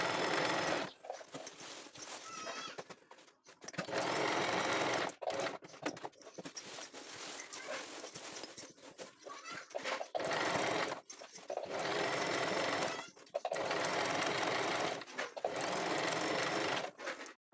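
An electric sewing machine zigzag-stitching the edge of a saree, whirring in several long loud bursts with brief pauses between runs, close up and without talk.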